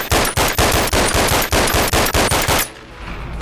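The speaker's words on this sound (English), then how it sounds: "a very standard issue Makarov that, you know, fires, certain caliber of bullet" Makarov pistol in the VR game Bonelab firing a fast string of about a dozen loud, evenly spaced shots, then stopping abruptly and leaving a quiet hum.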